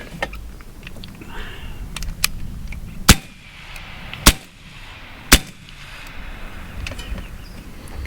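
An AEA Terminator .30 caliber semi-auto PCP air rifle fires three sharp, loud cracks spaced about a second apart at an outdoor range, with faint background rustle between shots.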